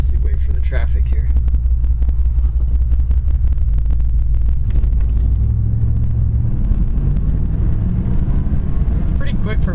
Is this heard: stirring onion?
no